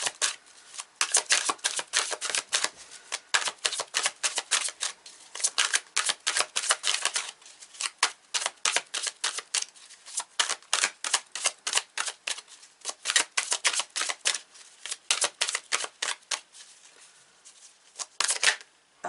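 Oracle cards shuffled by hand for a reading, rapid riffling bursts repeating in fast, uneven runs with brief pauses between, close and crisp with no talking.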